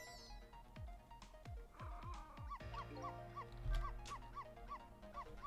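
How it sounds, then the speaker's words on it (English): A dog in the video game Ghost Trick gives several quick barks and yips, then a run of short repeated whimpering chirps over faint game music. "I like to bark at things that move."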